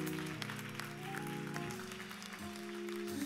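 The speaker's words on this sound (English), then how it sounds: "Come on, New Birth, clap your hands, give God praise." A church congregation claps along during a praise moment, with faint, steady hand claps heard under loud organ and music chords.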